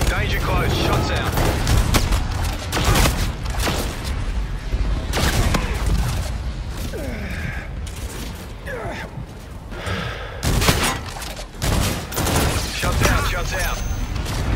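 Rapid bursts of gunfire in a shooter game, heard as loud, close volleys of overlapping shots with brief pauses between them, along with a voice talking.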